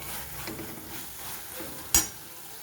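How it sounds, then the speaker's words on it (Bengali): Maggi noodles with sauce being stirred and sautéed in a pan give off a low, steady sizzle, broken by a single sharp clink of a utensil against the pan near the end. "একটু ভালো মতন কষিয়ে নেব যাতে এগুলো ভালো মতন সেদ্ধ হয়ে যায়"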